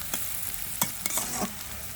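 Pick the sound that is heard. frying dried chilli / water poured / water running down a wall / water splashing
frying dried chilli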